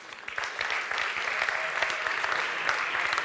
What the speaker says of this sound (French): On peut les applaudir à nouveau.